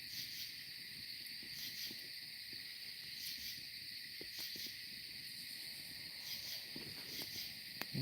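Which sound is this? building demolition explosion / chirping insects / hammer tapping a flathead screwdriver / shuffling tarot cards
chirping insects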